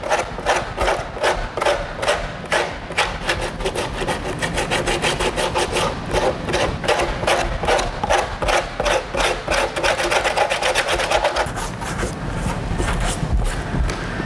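Steady, rhythmic rasping strokes scrape back and forth across hard fiberglass, close and continuous, like sandpaper worked by hand.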